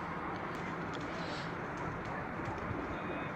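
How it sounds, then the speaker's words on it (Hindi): Pigeons settle at night in a newly built flying-pigeon loft on Jaranwala Road in Faisalabad. Faint, soft cooing sits low beneath a steady, hissing background. "कबूतर बैठ रहे"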